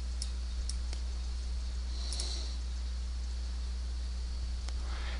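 Mouse clicks on the Measure tool in ArcGIS Explorer Online: a few faint, sparse, sharp clicks spread over several seconds above a steady low hum and background hiss.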